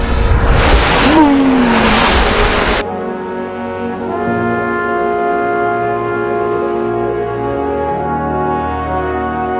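A car on a West Coast road trip, first a loud rushing burst of driving noise with a rising whine, then a steady low engine hum with sustained tonal drone for several seconds.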